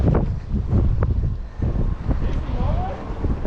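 Heavy wind buffets the microphone while fishing on the Gold Coast. Gusty low rumbles rise and fall close up, with voices talking briefly over them.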